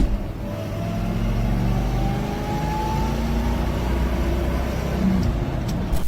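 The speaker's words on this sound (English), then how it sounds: "That ear-piercing mechanical whine in first gear, that is not a defect." A Muncie M22 Rock Crusher four-speed transmission whines in first gear, a thin rising mechanical tone over a loud, steady car engine drone heard close up without talk.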